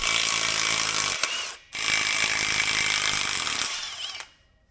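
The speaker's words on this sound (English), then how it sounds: "In this case, I have a shorty impact that I can get inside here to get this." A shorty impact wrench hammers off a ball joint nut on a Dana 60 axle, two loud sustained bursts of rapid rattling separated by a brief pause, close up, then winding down to quiet.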